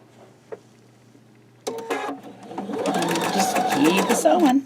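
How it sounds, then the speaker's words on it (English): A sewing machine stitching quilt block seams starts up after a brief quiet pause and runs with a steady whirring hum and rapid needle chatter, nearby, with someone talking over it. "keep sewing"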